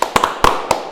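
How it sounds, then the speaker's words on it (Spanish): A few sharp, isolated hand claps ring out close by in a studio setting, about five distinct slaps spread unevenly across under a second, with no talking. "Gracias, un aplauso."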